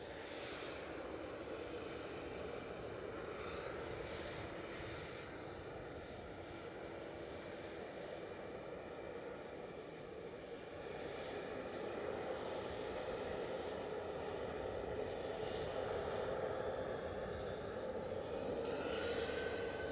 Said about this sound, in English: So EasyJet off to Bristol.